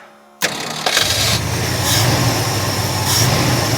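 An old car abandoned for 29 years cranks and catches after a shot of fuel into the fuel pump, then settles into a loud, rough, close idle.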